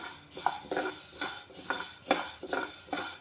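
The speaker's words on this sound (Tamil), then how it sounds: "நல்லா செவற மாதிரி வறுக்கணும்." Urad dal dry-roasting in a pan, with a steady train of scraping stirs and rattling, clinking strokes of a utensil against the metal, close and fairly loud with no talking.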